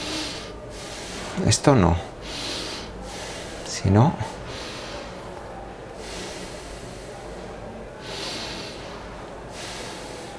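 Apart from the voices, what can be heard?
short shallow chest breathing demonstration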